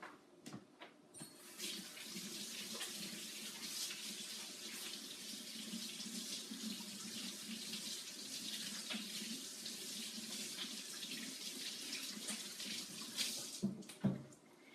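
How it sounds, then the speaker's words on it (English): Steady tap water runs into a sink for several seconds while hands are washed during hot process gingerbread soap making, a continuous close rushing that stops near the end with a few clunks. "Hold on, let me wash my hands."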